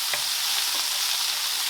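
Tomatoes sizzle steadily in a pan during egg biryani preparation, a dense, close hiss of frying with faint crackles and no voices.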